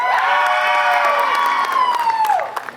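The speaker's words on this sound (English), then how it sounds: "She got a lot of loud screams." A large crowd screams and cheers loudly with high-pitched shrieks, swelling together and then tapering off near the end.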